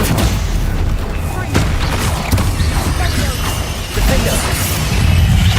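Spell combat in Hogwarts Legacy, with the Stupefy stunning spell cast amid a dense, loud wash of magical impacts, booms and mechanical clatter that continues steadily throughout.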